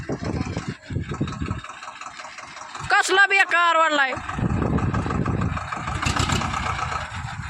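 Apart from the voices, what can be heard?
tractor engine running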